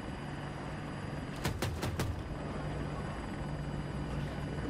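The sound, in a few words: Apache helicopter flying in Battlefield 2042 video game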